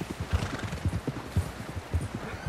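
A horse's hooves clip-clop at a steady galloping rhythm in the Western video game Red Dead Redemption 2, loud and continuous with no talking over it.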